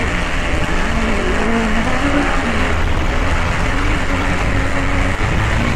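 Onboard a cross race car powered by a motorcycle engine at the Antoing Cross Festival, the engine drones loudly and steadily with a pulsing roar throughout.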